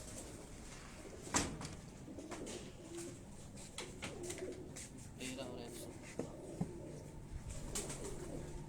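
F16 breed pigeon cooing softly in short repeated phrases, with scattered clicks and shuffling noises close by.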